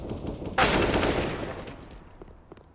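On the Nuke map in a Counter-Strike match, a sudden close burst of rifle fire cracks out, then trails off into scattered shots and echoes, with a commentator's voice underneath.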